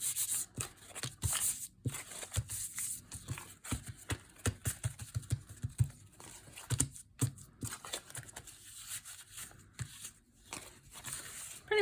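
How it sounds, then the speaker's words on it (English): Crumpled paper rubbed against a craft mat to lift green paint, giving a close series of uneven scrubbing and scuffing strokes with brief pauses between them. "Pretty much I'm just cleaning the green up off the mat here"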